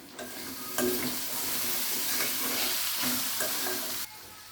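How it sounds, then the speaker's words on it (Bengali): Dried loitta fish stirred and fried in a pan of cooked-down spices, a constant loud sizzle with several spatula scrapes and clanks. "এখন মাছগুলো দিয়ে নাড়াচাড়া করে নেব কিছুক্ষণ"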